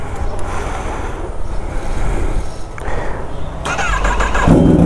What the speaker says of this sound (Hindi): सो स्टार्ट कीजिए बाइक को